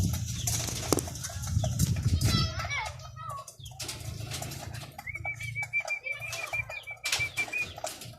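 Young racing pigeons flap their wings as they come down, a soft fluttering and rustling amid background chatter and people talking, with a faint repeated chirping tone later on.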